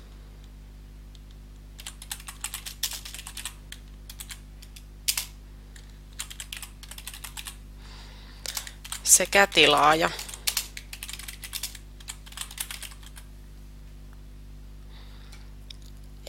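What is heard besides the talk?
typing on a computer keyboard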